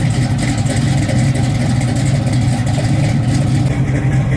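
A vehicle engine idling a little higher than normal, close and loud, with a steady low rumble that barely changes and no voices.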